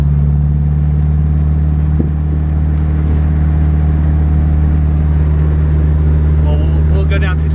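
A Honda Del Sol with a freshly repaired transmission drives steadily in third gear, its engine holding a constant, loud drone from start to finish with a brief knock near the second mark, and someone talks over it.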